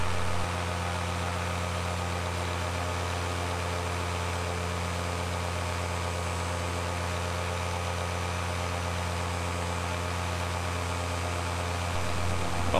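An aircraft engine runs at full throttle during a static run-up, a loud, steady, unbroken propeller drone with a strong low hum that holds constant for the whole stretch.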